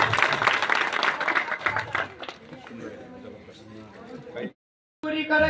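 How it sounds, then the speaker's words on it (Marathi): Listeners at a kirtan clap loudly in a burst of rapid, dense applause that fades over a couple of seconds, followed by a trailing voice, a brief silence and then the sound resumes. "जोरदार टाळी वाजवा."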